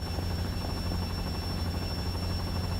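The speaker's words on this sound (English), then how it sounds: "It's a loud-ass helicopter that I'm probably gonna have to turn down." Loud, steady helicopter rotor drone from the video game Final Fantasy VII Ever Crisis, a dense low throb with a high whine that holds unbroken throughout.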